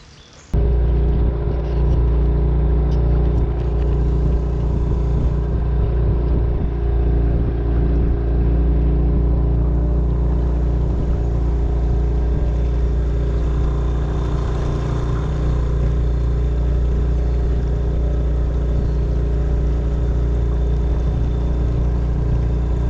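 A motorboat engine starts and runs steadily, a loud low rumbling drone that holds throughout.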